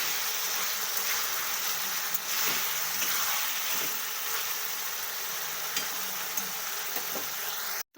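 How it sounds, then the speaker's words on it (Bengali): Chicken 65 pieces fry in a pan, cooked village style, giving a steady loud sizzle throughout, broken by soft periodic scrapes and knocks as the pieces are stirred. "এটা একেবারে ভাজা ভাজা হবে।"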